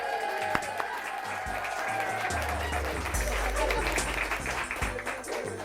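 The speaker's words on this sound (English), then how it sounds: "Your applause, please." Applause for named contestants at a Halloween event, a continuous crowd clapping at moderate distance over a background of music and low hum, with some voices in the room.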